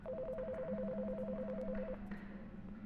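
A phone rings in the video game Until Then, an alternating two-tone electronic ringing pattern sounding steadily for about two seconds over a continuous low hum, then stopping.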